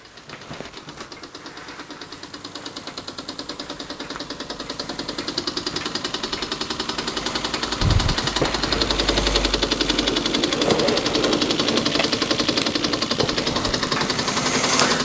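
Weeden 672 model steam engine running steadily, a fast continuous mechanical chuffing and clatter close by that grows louder and busier over time, with a brief low thump midway.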